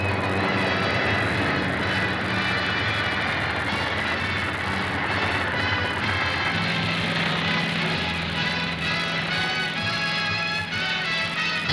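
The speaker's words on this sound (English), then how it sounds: "The Skyhawk jet fighter bombers of 805 Squadron pack a punch." Skyhawk jet fighter bombers of 805 Squadron in flight, a loud, steady, continuous jet engine roar that holds throughout with no pauses.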